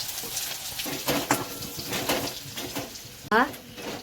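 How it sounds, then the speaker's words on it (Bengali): Cumin seeds, dried red chilli and crushed garlic frying in hot oil in a pan for khichuri, a steady close sizzle with brief stirring scrapes and a sharp clatter near the end. "জিরে আর শুকনো লঙ্কা একদম চরবড়ি যায় থেতো রসুন"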